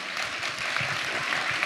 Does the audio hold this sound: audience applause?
yes